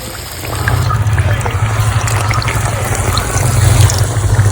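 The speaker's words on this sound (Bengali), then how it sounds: "এবার আমি এই একটা একটা করে এইভাবে আমি মাখিয়ে তেলের মধ্যে দিয়ে দিচ্ছি" Paneer pieces, coated in batter, frying in hot oil in a pan, giving a steady, loud, dense sizzle that keeps going throughout, close up, with no talking.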